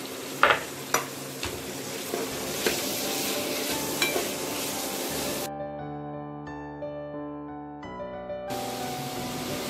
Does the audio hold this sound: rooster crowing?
no